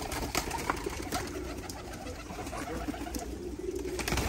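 Pigeons in a loft, including tumbling flying breeds, give soft repeated coos over a close, busy background of fluttering and shuffling, with no voices.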